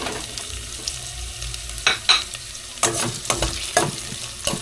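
Chopped onion and ginger sizzle in a hot pan for a Filipino papaitan. A soft frying hiss runs under several sharp stirring scrapes and clacks of a utensil against the pan, close up, with no talking.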